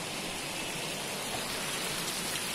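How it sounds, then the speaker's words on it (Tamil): Water spilling down a small waterfall-like drop beside a roadside spot between Gudalur and Pandalur, a steady close rush of splashing with no pause and no voices. "பாருங்கள் இந்த இடத்துல ஃபால்ஸ் மாதிரி வரும் தண்ணி"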